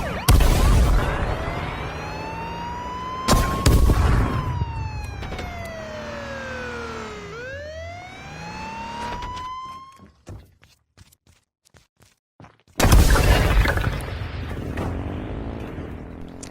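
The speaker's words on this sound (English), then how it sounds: "One of the fun things about the police vehicle is the use of the siren." A police vehicle siren in the video game H1z1 wails loudly, sweeping up and down in long tones over engine noise. It breaks off abruptly, a few clicks follow, then a loud burst of noise returns.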